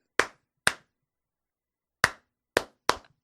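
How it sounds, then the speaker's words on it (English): Five sharp, loud hand claps ring out alone in a quiet room at night, spaced irregularly with a long pause after the first two and a quicker trio at the end. "trying to clap real loud"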